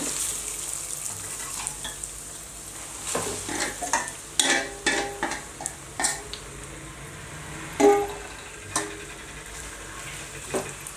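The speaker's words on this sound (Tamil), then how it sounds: "எண்ணெய் காஞ்ச பிறகு நம்ம மிக்ஸ் பண்ணி வச்சுருக்க மீல் மேக்கரை போட்டு ஃப்ரை பண்ணி எடுத்துடலாம்" Soya chunks coated in an egg mixture sizzle and fry in hot oil in a pan, with repeated close scraping and stirring strokes over a steady background crackle.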